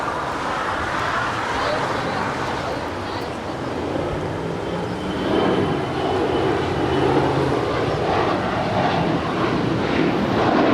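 A Boeing Dreamliner airliner at LAX roars steadily as a broad, sustained jet rumble, while a person talks over the engine noise throughout.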